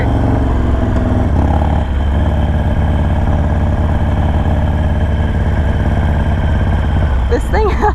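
A Harley-Davidson Sportster motorcycle engine, bigger than an 883, runs with a steady, loud, close drone while accelerating, the note rising slightly near the end.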